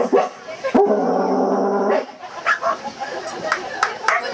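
A man imitating a small guard dog with his voice gives a sustained, nasal barking howl followed by a few short yippy barks, close and loud, with a crowd murmuring in the background.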